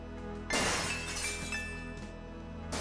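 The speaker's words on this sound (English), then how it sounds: "Gabriel hears the faint sound of breaking glass." Glass shatters suddenly in the Gabriel Knight: Sins of the Fathers adventure game, a loud crash followed by a sustained scatter of tinkling shards over a low ambient hum, with no talking.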